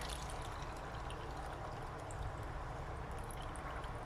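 Water pours steadily out of a container after washing lettuce, a continuous splashing stream heard close for a few seconds with no voices.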